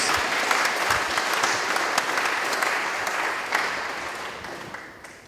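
A church congregation claps for a woman during a French-language sermon, a dense, full round of applause that holds steady and then tapers off near the end.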